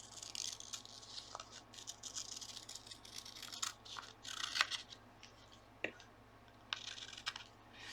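Scissors snipping through a paper picture cut out for a gluebook, a quiet, close series of irregular crisp snips and rustles with small pauses between cuts.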